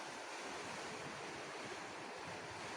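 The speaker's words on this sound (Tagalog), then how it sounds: "Yan guys, naririnig ninyo, alon yan." Steady roar of large surf and rushing water at night in the Philippines, constant and fairly close, with wind noise over the microphone and no voices.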